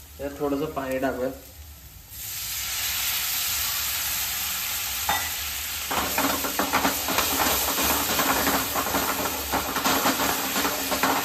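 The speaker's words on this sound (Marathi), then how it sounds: "त्यात थोडंसं पाणी टाकूया" Water poured into frying masala for paneer butter masala sets off a loud, sustained hiss of sizzling and steam, after brief clinks of utensils, then continues bubbling with scattered stirring scrapes.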